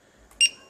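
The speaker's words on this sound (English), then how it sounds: "So it beeps, let you know every time you go into a setting." A single short, high electronic beep from a drone flight controller rings out once against near silence, clear and close.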